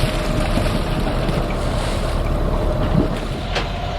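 A Westsail 42 sailboat sails single-handed at sea at night, its hull rushing through the water as wind buffets the microphone. The steady, loud wash of water carries on without a break, and nobody speaks.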